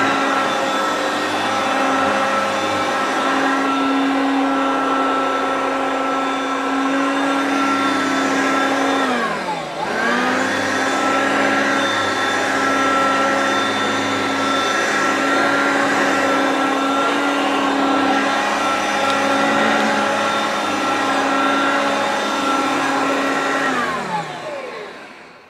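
A thrift-store Hoover Concept One upright vacuum cleaner runs with a loud, steady motor whine close by. The pitch dips briefly near the middle and the motor winds down at the end.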